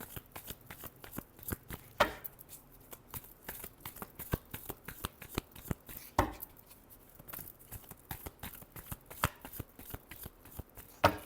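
Tarot cards being shuffled by hand in a quiet room, a steady run of soft riffling flicks and papery taps with a few sharper snaps, close and alone with no talk.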